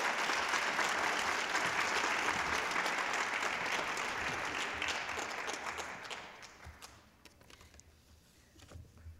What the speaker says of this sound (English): Let's give the dancers another round of applause.